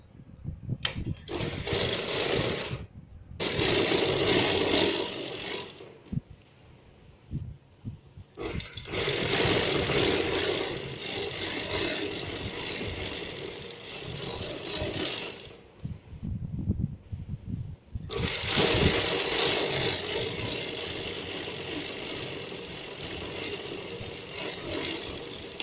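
Sewing machine stitching a salwar panel, a fast mechanical whirring that runs in several bursts separated by short pauses, close and moderately loud.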